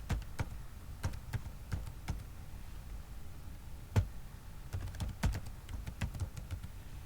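A password being typed on a computer keyboard: irregular clusters of close, crisp key clicks with brief pauses between bursts, no talking.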